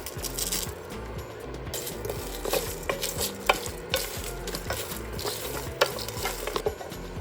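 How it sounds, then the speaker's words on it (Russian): Spices, including dried garlic and dried onion, sizzle softly in a pan over medium heat while being stirred, with scraping and light clinks of a utensil recurring throughout over a low background hum. "Прогреваем специи на среднем огне до усиления аромата специй."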